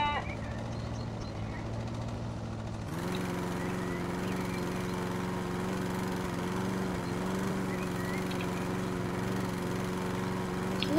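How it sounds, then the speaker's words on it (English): A lawn mower in the video game House Flipper runs continuously with a steady engine hum that rises in pitch and loudness about three seconds in, then holds a constant drone. "It's a literal ghost lawnmower."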